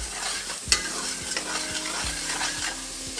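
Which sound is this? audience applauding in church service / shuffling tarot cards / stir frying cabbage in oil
stir frying cabbage in oil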